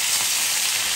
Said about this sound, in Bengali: দিয়ে দিলাম মাছ, দিয়ে দিলাম চেউয়া মাছ